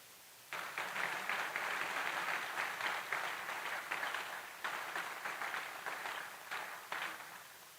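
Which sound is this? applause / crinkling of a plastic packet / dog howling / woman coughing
applause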